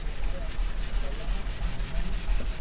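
A wood inlay is wet-sanded with 600 grit sandpaper and oil along the grain, giving a rhythmic back-and-forth rubbing scrape in quick regular strokes, close and steady with no voices.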